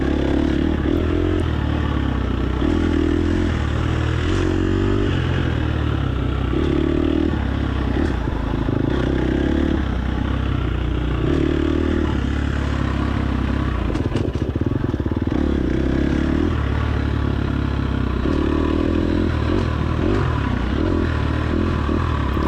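A dirt bike engine revs hard in the woods during a race, its pitch rising and falling in repeated surges as the rider throttles through tight turns. The engine is loud and close and runs continuously without speech.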